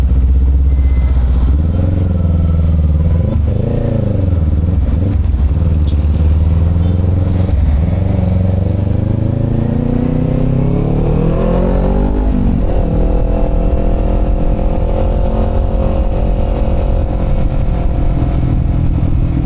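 A naked-style motorcycle engine runs close by, idling with a low rumble, then revs up and settles into a steady, harmonic drone.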